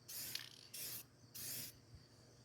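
Fast-drying primer sprayed from an aerosol can onto a van door in three short hissing bursts, close and fairly quiet, with brief pauses between them.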